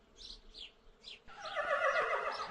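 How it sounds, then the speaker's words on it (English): A horse neighs in a loud, rough, trembling whinny lasting over a second, after a few short chirps. "This is a horse."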